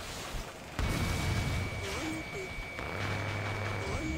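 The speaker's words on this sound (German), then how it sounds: "Und nochmal eine Bombe ausklinken." In the jet combat game Ace Combat: Assault Horizon, a bomb released from an aircraft gives a muffled, faint boom over the steady roar of the engine. Someone talks over the game sounds.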